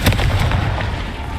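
Confringo spell blast in the video game Hogwarts Legacy, a loud, dense booming burst with rumbling body that fills the whole short moment without fading.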